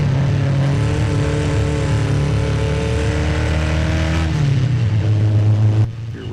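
Race cars drone loudly through a track turn, a steady engine tone from the driver's seat that holds, shifts down briefly, then drops away near the end.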